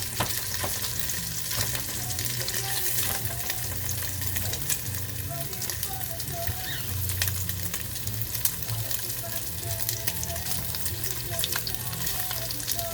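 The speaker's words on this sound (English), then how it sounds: "so it's a fast, hot cook on the bacon" Bacon strips frying fast in a hot pan, a steady close sizzle and crackle with scattered spatter pops running throughout, no talking.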